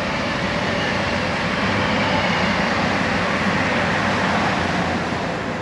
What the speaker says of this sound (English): Oh, look, train. Wave to the train.